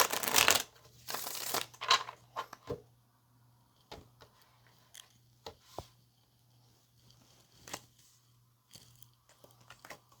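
Tarot cards riffled and shuffled in several quick bursts, a dense crackling rush at the start followed by scattered short snaps and taps over a low steady hum, close and fairly quiet.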